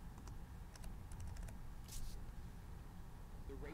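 Quiet keystrokes on a computer keyboard as a trade amount is entered into trading software, several sparse clicks in short bursts over a faint background.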